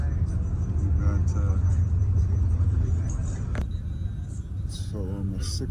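Continuous low road rumble from inside a bus travelling on a road in Laos, steady throughout, with voices talking over it and a brief knock partway through.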